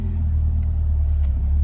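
A 1999 Peugeot 206 with a 1.4 engine idles close by, a steady low rumbling hum without pauses through the short stretch.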